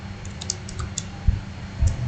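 Keys tapped on a computer keyboard while entering a Cisco router configuration command, a light run of quiet clicks with two slightly heavier keystrokes near the end, close and alone.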